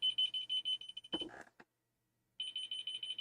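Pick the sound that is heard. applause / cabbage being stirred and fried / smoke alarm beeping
smoke alarm beeping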